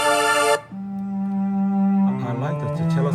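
A sustained synthesized pad tone, a bright chord that cuts off and gives way to a lower held note, then a richer swelling layer joins in, loud and steady with no talking.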